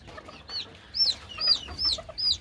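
Hens cluck softly in a coop with newly hatched chicks, high peeping calls repeating in quick bursts over the low, close clucking.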